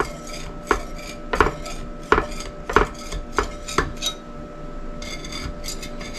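A utensil scrapes and taps around the edges of a metal baking pan to loosen lemon blueberry bread, making about a dozen sharp, close clinks and scrapes in an uneven rhythm.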